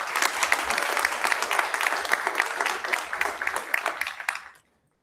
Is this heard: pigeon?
no